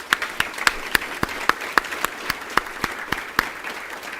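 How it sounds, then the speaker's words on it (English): Audience applause at a Texas Hispanic farm and rancher conference opening, with steady clapping and distinct sharp claps punctuating the sustained sound, continuous and alone without talk. "give her a round of applause"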